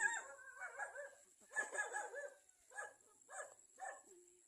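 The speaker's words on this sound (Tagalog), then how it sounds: "yung tumatahol talaga yung mga aso" Dogs bark in a string of short bursts, some overlapping, then three spaced single barks, fairly distant and faint.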